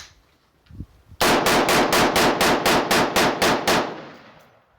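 Rapid-fire rifle shots from a Bear Creek Arsenal M4-profile .223 Wylde rifle firing Tula ammunition outdoors, about ten loud, sharp, evenly spaced reports in quick succession with ringing decay after the last.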